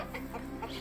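A rooster at a hotel eatery in Jagdishpur, Kapilvastu, Nepal gives soft, close clucks in a few short bursts over a low background hum.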